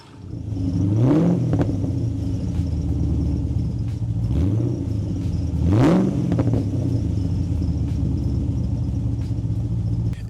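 Cammed LS V8 in a Holden VS Statesman SS, revving repeatedly with sharp rising blips over a lumpy, loping idle, loud and close with no talk.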